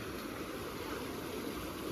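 River water falling over pebbles at the Sivagiri Kombai river: a steady, even rushing and babbling flow that continues without a break and is heard alone, with no voices.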